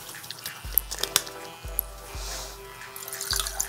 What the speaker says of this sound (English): a pour of OJ